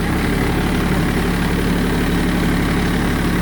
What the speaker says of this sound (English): Oh, I kind of like this tractor.